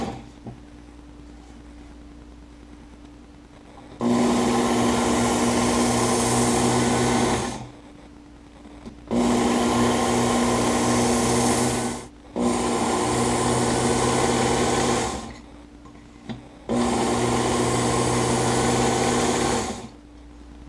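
A Work Sharp Ken Onion edition belt knife sharpener runs in four bursts of several seconds each, a loud steady motor whine with belt hiss, separated by short quiet gaps.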